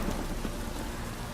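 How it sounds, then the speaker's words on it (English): Heavy rain in The Witcher 3 video game pours steadily in a dense, constant hiss with a low rumble underneath. "This downpour's a bastard"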